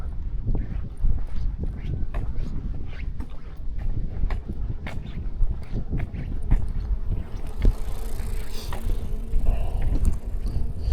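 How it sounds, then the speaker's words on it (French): Steady wind noise rumbles throughout, with scattered clicks and knocks, and a faint whine rising near the end. "Il y a du vent, ça."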